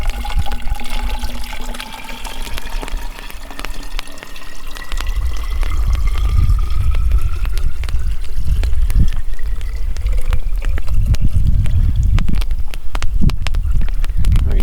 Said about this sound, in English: Fill up our Nalgene here.